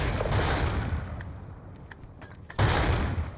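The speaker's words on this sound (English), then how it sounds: "my teammate's calling out that he's shooting the sentry gun, and so he finishes it off" Black Ops 2 gunfire on Nuketown as a teammate shoots down a sentry gun, a distant rattle of rapid shots followed by a louder close burst near the end.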